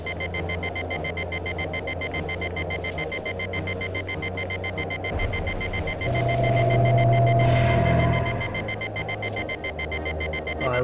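Loud electronic alarm beeping in the 1995 video game BioForge, a steady repeating tone running through the whole stretch over a humming game soundscape, swelling louder near the middle.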